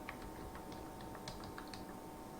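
A web address is typed on a computer keyboard, a quick irregular run of faint, light key clicks over a steady low background hum.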